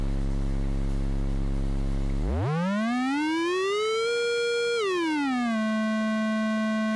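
A KlirrFactory WaveMaker module in VCV Rack produces a synthesized tone rich in harmonics. It holds a low steady pitch, then glides upward, sustains, and slides back down to a middle pitch, with no talking.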